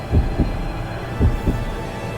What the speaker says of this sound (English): My heart is beating so fast